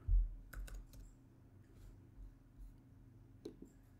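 Key presses on a Microsoft Surface Pro keyboard, a short burst of light clicks near the start and a couple more near the end, quiet and close with no talk.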